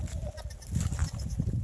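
Baby goats on a homestead bleat in short, close calls over a steady low rumble of farmyard noise, with no talking.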